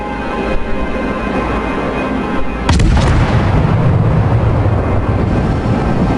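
Naval guns fire in the World of Warships video game, one sudden loud blast booming partway through over a steady rumbling engine and sea background.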